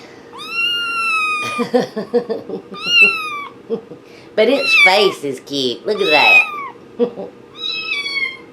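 Several cats, kittens among them, meow repeatedly in high drawn-out cries close by, trading off with someone talking throughout.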